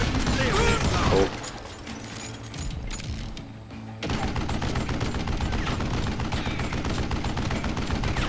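Enemy gunfire in the western shooter game Call of Juarez Gunslinger, with dense, continuous shots rattling loudly over a steady background din, briefly thinning before resuming.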